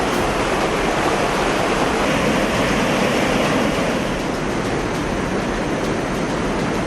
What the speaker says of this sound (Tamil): தரைப்பாலத்துக்கு மேல தண்ணி போயின்னு இருக்கு